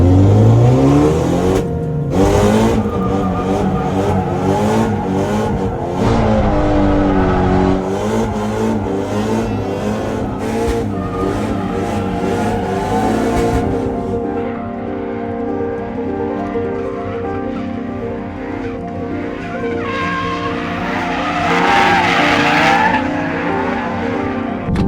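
A drift car on a Japanese track revs hard and skids for a sustained stretch, the engine roaring and bouncing on the limiter while tires squeal, loud and continuous throughout.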